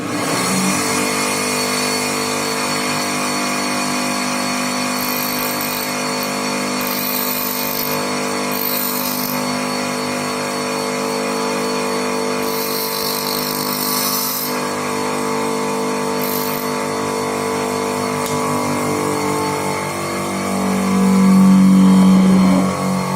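A bench grinder motor fitted with a tool-rest attachment runs continuously, a steady loud electric hum with a constant whine, no talk.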